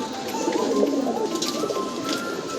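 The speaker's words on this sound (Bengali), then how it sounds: "এটা হচ্ছে আমার বাসার প্রথম খয়রা যে কবুতরটা আসে" Pigeons, including a brown one, coo steadily and softly in a home loft, overlapping throaty calls with a few higher chirps and no talking.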